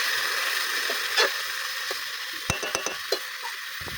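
A splash of water hits frying shetī greens in a pan and sets off a soft, steady sizzle, broken by a few sharp clinks and scrapes of stirring.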